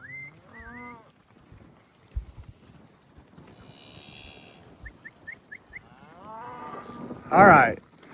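Cattle moo across a Colorado ranch pasture during fall ranch work: several drawn-out lows from different animals, some distant and some nearer, ending with one loud, close bellow, with brief bird chirps and faint rustling between them.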